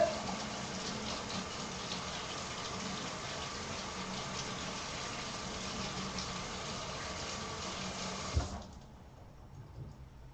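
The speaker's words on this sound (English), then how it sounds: "Wash your hands off real quick." Kitchen sink tap gushing steadily while hands are washed, a soft, even rush of water for about eight seconds before it is shut off, leaving near silence.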